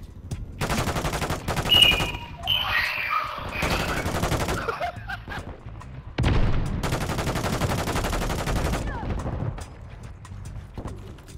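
Repeated bursts of automatic gunfire in Call of Duty MWIII on Rebirth Island, with loud, dense volleys coming in waves separated by short lulls, plus some faint distant shots and mechanical clatter.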